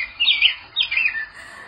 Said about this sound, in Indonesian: Tadi adalah burung.